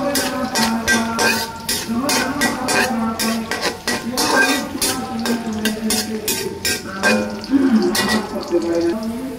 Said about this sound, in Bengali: পেঁয়াজ এবং মরিচ এগুলো ভালো করে ভেজে নিতে হবে।